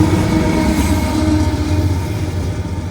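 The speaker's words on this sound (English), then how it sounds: "Bringing up the rear is a GE AC44CWCTE as DPU." A freight train rumbling past with a GE AC44CWCTE locomotive at the rear as distributed power, a loud, steady roar of engine and rolling wagons close by.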